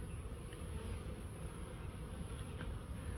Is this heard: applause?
no